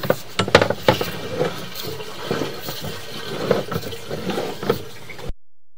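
Water rushing through a house drain line down toward a 4-inch cast iron pipe, an uneven gurgling flow with surges and splashes, fairly close, then cutting off abruptly.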